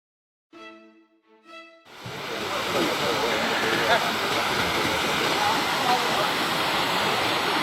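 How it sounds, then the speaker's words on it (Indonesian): Water gushes steadily up from underground, a loud broadband rushing roar that begins abruptly after a brief voice and continues unbroken. "Ini adalah air muncrat terus dari bawah tanah."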